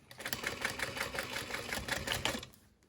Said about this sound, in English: okay, and then I'm gonna sew across here